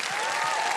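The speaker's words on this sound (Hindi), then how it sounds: "जोरदार तालियां बज जाएं इनके लिए" An audience at a TV quiz show studio claps loudly in a dense, continuous wash of applause. It lasts under a second and has no voices over it.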